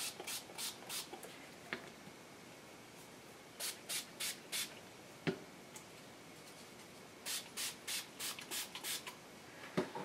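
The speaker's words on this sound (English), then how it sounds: "I'm going to spritz color on here" A spray bottle spritzes color onto a dark paper tag in quick bursts, with a first run of about five sprays, a further three, a pause, then about six more at close range. A faint rubbing sound falls between the bursts and no one speaks.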